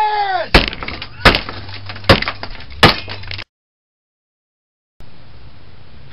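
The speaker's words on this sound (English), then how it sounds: "It needs to be smashed!" A plastic Furby toy gets smashed in a workshop: four loud, sharp cracking impacts with splintering breakage ring out about a second apart over a low hum, followed by a stretch of silence and then faint background noise.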